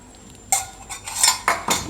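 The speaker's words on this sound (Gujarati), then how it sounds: "તો થોડુંક ઘી નાખશું ઉપરથી, એકાદી ચમચી." Ghee spooned over semolina halwa in a pan, a spoon clinks and scrapes against the metal pan several times in quick, close taps with no talking.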